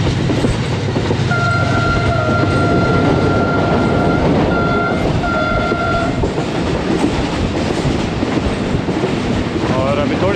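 The 15 Up Karachi Express, hauled by a Blue Tiger AGE30 locomotive, runs toward Lahore Junction: loud, steady rumble and clatter of the train throughout, with several sustained horn blasts partway through.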